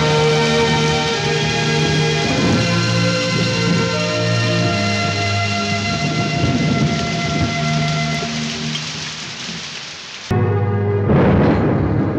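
Heavy rain pours down steadily as deep rolls of thunder rumble through it, loud and continuous, before a sharp cut and a renewed burst of downpour.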